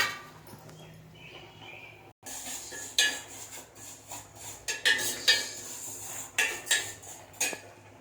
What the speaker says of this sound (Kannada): ಇದೇ ಸೇಮೆನ ಹಾಕ್ಕೊಂಬಿಡೋಣ, ಸ್ವಲ್ಪ ಫ್ರೈ ಮಾಡ್ಕೊಳ್ಳೋಣ.